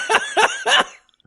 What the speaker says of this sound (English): He coughs one time.